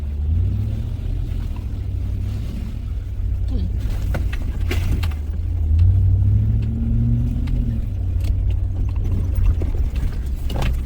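A Toyota Hilux 4WD crawls along a bush track on a Tasmanian 4WD route, its engine a steady low rumble with brief revs as it climbs over obstacles, and someone talks over it throughout.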